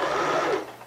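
A sewing machine stitching a fold of fabric, giving a short, close whirring run of the needle that stops abruptly after less than a second.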